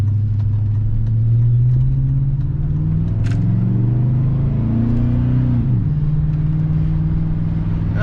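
A 2003-2006 Chevrolet Silverado 1500 pickup cruises at about 40 mph, its engine droning steadily from inside the cab with a low rumble and a brief shift in pitch partway through.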